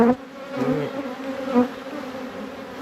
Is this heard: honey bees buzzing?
yes